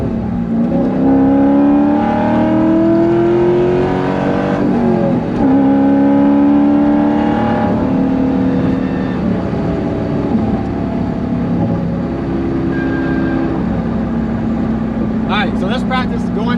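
A cammed C5 Corvette Z06 with a manual gearbox drives and revs hard, its loud engine note climbing and falling through gear changes in one continuous, close, throaty drone.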